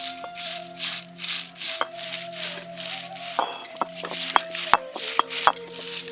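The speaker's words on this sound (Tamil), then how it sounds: "இப்போ அரை மூடி தேங்காயை அரைக்க ஆரம்பிச்சிடலாம்" An electric mixer grinder grinds half a coconut, after garlic and shallots, with a steady motor hum and a pulsing, rattling churn of the blades. The sound is close and even, and sharper knocks and clinks come toward the end.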